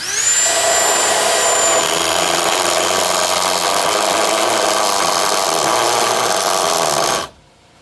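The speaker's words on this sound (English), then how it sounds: "If you have the handle with this drill, it works better." A power drill whines steadily at high speed for several seconds, loud and close, while fitting a Nissan Titan window into a Chevy truck, then stops abruptly.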